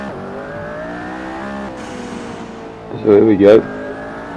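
A McLaren P1 in a Gran Turismo Sport racing game drones steadily at high revs with shifting pitch, then surges louder in a short burst near the end, with someone talking over it.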